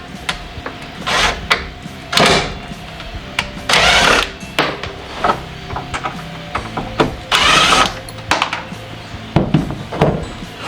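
Screws come out from under the dash of a Dodge Dakota R/T in short, loud whirring bursts of a power driver, about a dozen spaced irregularly, with faint clicks and rattles between.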